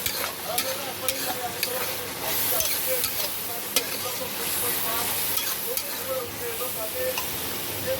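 Ginger, garlic and green chilli paste frying in a hot pan crackles and sizzles loudly and steadily, with frequent scraping stirs and sharp spattering pops close by.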